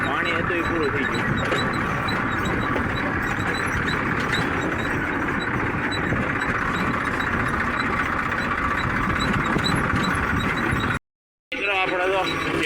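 A farm tractor engine drones in a steady, loud, continuous rumble from up close during a ride, broken by a brief dropout near the end.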